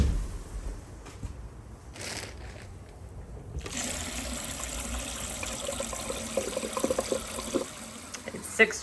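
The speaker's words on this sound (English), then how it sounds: "open up all the faucets that I have, 2 sinks and 1 shower, and let it run for a little bit" Water runs from the faucets, sinks and shower of an RV during a Truma AquaGo water heater decalcifying flush, starting with a few knocks and then a steady, moderately loud rush and trickle that continues to the end.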